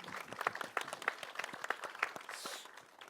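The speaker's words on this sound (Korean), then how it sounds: "박수를 한번 드릴까요?" Brief, light applause at the Director's Cut Awards: scattered individual claps, close and uneven, thinning toward the end, with no one speaking.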